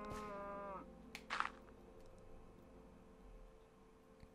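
A cow in Minecraft gives a clear, near moo at the start, followed by a few soft clicks and rustles in an otherwise quiet scene.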